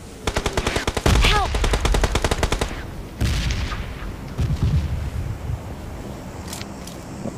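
Rapid automatic gunfire in a video game rattles out in fast, loud bursts, then trails off into a few sporadic shots and echoing booms.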